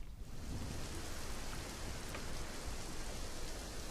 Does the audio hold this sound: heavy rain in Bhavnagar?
yes